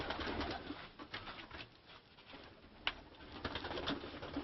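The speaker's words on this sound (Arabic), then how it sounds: "هنا الحمام زي ما انتم شايفين" Pigeons coo faintly inside a five-year-old pigeon tower, soft low murmuring calls blending with rustling and light background noise throughout.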